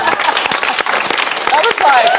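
Studio audience on a Celebrity Big Brother UK 2014 companion show breaks into sustained applause, a dense wash of clapping that runs the whole stretch, with voices mixed in.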